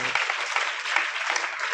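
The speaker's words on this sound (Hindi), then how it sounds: "एक बार अपने लिए जोरदार तालियां आप लोग बजाइए" An audience at a Hindi poetry gathering (kavi sammelan) in Badarwas applauding, a brief burst of steady, dense clapping heard alone.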